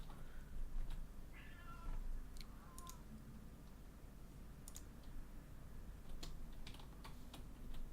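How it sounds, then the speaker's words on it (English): Cats meow in the video game Elder Scrolls Online with a couple of short, fairly close meows early on, mixed with steady keyboard typing and mouse clicks in a quiet room. "Let's go back to the cats."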